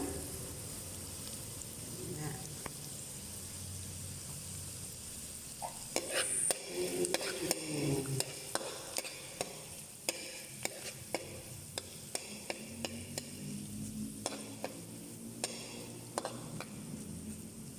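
Green chili and eggplant stirred in a frying pan for a simple home-cooked dish, a steady sizzle under frequent scraping and clacking of a utensil against the pan, close and fairly quiet, with no talking.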